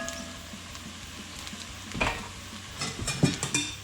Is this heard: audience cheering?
no